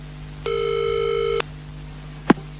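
A telephone rings once with a steady electronic tone lasting about a second, loud and alone, followed shortly by a brief click as the handset is picked up.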